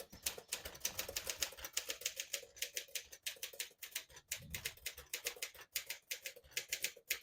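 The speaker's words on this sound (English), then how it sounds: "I'll type a sentence in red on the next line." A 1952 Smith-Corona Silent portable typewriter types in red ribbon, with a steady rapid run of crisp key strikes close by at a fairly quiet level.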